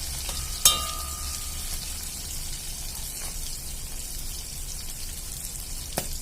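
Oil sizzles steadily around frying squid heads, a constant bubbling hiss with an occasional sharp clink from a utensil.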